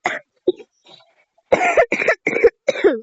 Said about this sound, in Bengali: আমার কাশি হয়েছে